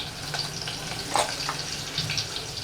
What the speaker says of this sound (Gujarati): બધું તેલમાં એકદમ સાતડી લેવાનું